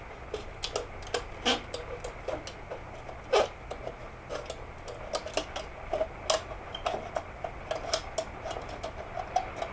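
A knife cutting into an aluminum can, producing scattered sharp metallic clicks and scraping ticks in irregular bursts, close and quiet with no talk.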